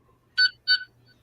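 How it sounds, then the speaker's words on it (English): A 14th Doctor sonic screwdriver toy gives two short, clear electronic beeps in quick succession, close and fairly loud against a quiet background, with a faint start of a third tone at the end. "So when you release, it will beep 2 times,"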